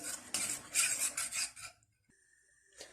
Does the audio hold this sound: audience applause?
no